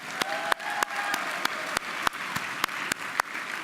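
An audience at a workplace equality awards summit applauds, a steady wash of clapping with a few sharper claps standing out near the front, lasting a few seconds.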